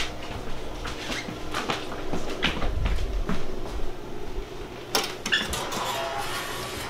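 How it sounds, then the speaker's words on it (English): A metal tray of potato chips slides into an oven, giving clattering metallic bangs and a door clunk near 5 seconds over a steady low hum, with no talking. "We're just gonna put this in the oven."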